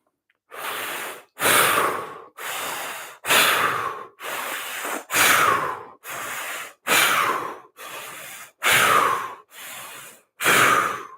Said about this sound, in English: 6 big breaths in and out the mouth, followed by a stage breath.